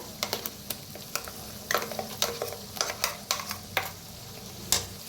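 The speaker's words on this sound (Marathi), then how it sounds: "आता भाजून घेऊया मसाल्याला ह्याला बी मिक्स करून" Spice paste roasting in oil on a village wood-fired chulha, stirred with repeated sharp scraping strokes over a soft continuous sizzle, close and moderately loud, with no voices.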